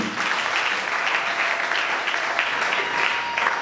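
A church congregation breaks into sustained applause, a dense, even wash of clapping hands that fills the space at steady loudness from start to finish, with faint voices mixed in.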